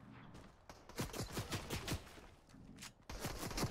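Gunfire in the Fortnite video game: rapid bursts of shots in quick clusters, fairly quiet overall, with a short pause before a final volley.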